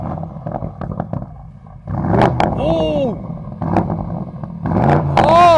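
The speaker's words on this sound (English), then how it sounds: "it's time to hear the sweet sound of this custom sports exhaust." A BMW 850i with a custom sports exhaust revs in short bursts, its engine rising and falling loudly close by, mixed with excited exclamations and talk.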